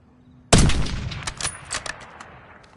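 Gunfire in a PS5 video game: one sudden loud close blast, followed by a rapid scatter of further shots and cracks that fade over the next two seconds, with no talking.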